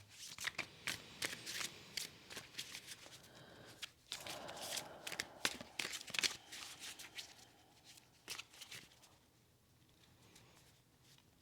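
Tarot cards shuffled by hand in a run of crisp riffling and flapping bursts, close and fairly loud, then tapering into softer handling near the end, with no voices.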